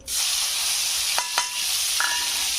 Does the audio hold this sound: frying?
yes